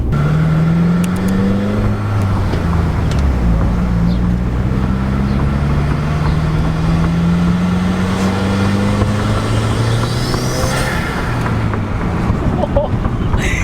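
A 2018 Subaru WRX engine fitted with a GrimmSpeed cold air intake revs and drones loudly and close, pitch rising and falling as it accelerates, with voices faintly mixed in beneath the roar.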